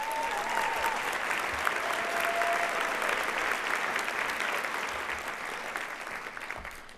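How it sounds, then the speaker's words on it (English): Audience at a youth of the year celebration applauds the club's candidates, a long, full round of clapping from a large crowd that swells early and slowly tapers off, with a faint tone or whistle briefly audible beneath. "Please give all our candidates another round of applause."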